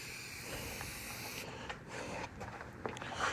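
An aerosol spray can sprays primer paint onto a pulling tractor in a workshop, a soft continuous hiss that breaks into short bursts and pauses, close by and fairly quiet.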